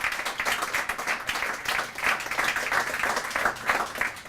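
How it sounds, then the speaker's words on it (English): Audience applause at a poetry night event, a steady round of clapping from a room of people, fairly loud and continuous with no voices over it. "Let's have a round of applause for Mark Shaw."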